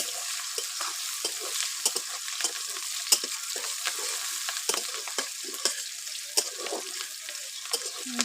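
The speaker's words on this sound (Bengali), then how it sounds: "একটু নেড়ে নেব।" Chopped onions and green chili sizzle and fry in a pan as they are stirred, with steady crackle and repeated scraping strokes at close range, no talking.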